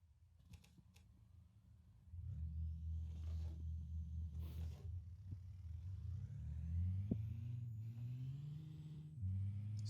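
A truck in American Truck Simulator rated at 1500 horsepower: after a quiet start, a deep engine rumble kicks in and climbs steadily as it accelerates, rising through gears with brief shifts and faint clicks.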